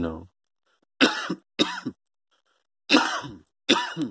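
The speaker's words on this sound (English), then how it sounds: "excuse me for coughing on you guys." A man coughs and clears his throat in several separate rough bursts, close to the microphone, with silent gaps between them.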